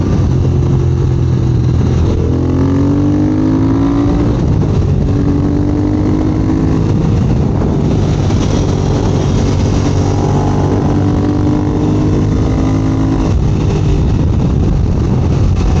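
A 2022 Triumph Speed Twin motorcycle rides on cold roads, its engine droning steadily up close with harmonic pitch rising and falling through gear changes and a turn, loud and continuous with wind rush and no talk.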